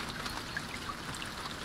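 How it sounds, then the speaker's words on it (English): Rain falls steadily in the INCUR survival video game, a dense even hiss of water with faint scattered drips, alone and at constant level throughout. "Looks like the rain's gonna stop."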